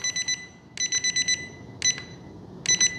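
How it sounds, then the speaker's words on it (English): Electronic beeps from an FMS Toyota FJ Cruiser 1:18 RC crawler, sounded in short rapid bursts of several high-pitched pulses each, four bursts separated by brief pauses, close and clear. "Listen to the beeps."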